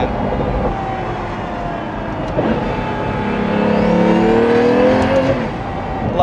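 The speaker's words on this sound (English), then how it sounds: "Mercedes twin turbo V12 power plant." A Pagani Utopia's Mercedes twin-turbo V12 pulls hard and close, its note climbing and swelling toward a peak before easing off again, heard on its own with no voices.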